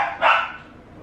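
Dogs give a short burst of barking, one sharp bark standing out over a steady background hiss, fairly close and loud, with no talking.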